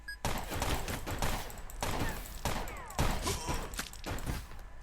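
Rapid bursts of video game gunfire crackle repeatedly across the whole stretch, with several dense volleys spaced about a second apart and no talking.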